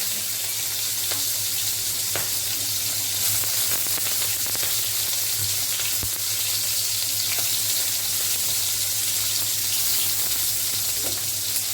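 Chopped onions and green chilies fry in hot oil with bay leaves, a loud, steady close sizzle with a low hum beneath and scattered sharp ticks and pops throughout.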